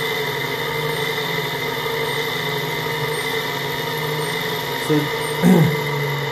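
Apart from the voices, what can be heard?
AC motor with encoder running at about 800 RPM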